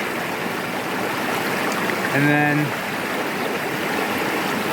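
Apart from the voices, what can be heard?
creek running on Vancouver Island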